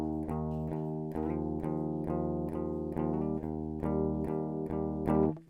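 An electric guitar with the pickup switch down strums repeated slowcore chords in a steady rhythm, bright and sustained with a slightly distorted edge, played alone.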